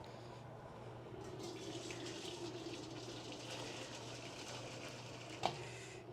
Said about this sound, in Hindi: अब इसमें हमने बॉईल पानी ऐड करनी है